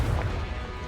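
A Confringo exploding spell cast in a Harry Potter–style video game, heard as a single short, dull blast that fades quickly into a low rumble, with no talking.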